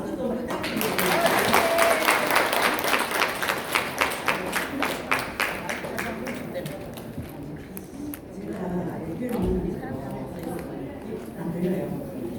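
A crowd claps in a steady rhythmic pattern, fairly loud at first and then thinning into scattered claps, with a voice speaking over it.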